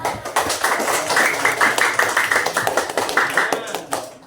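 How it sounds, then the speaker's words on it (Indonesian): A group of children in a classroom clap their hands in a quick, uneven burst lasting several seconds, with some voices mixed in. "Tepuk tangan."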